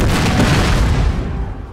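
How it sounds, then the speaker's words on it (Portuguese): Cannons fire in a Napoleon: Total War battle, a loud, close, heavy boom that swells at once and rolls away over nearly two seconds, with no talking over it. "Eu vou deixar os canhões atirando"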